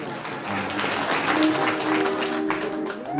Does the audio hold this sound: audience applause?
yes